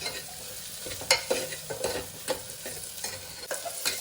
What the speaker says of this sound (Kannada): ಫ್ರೈ ಆಗಲಿ ಈರುಳ್ಳಿ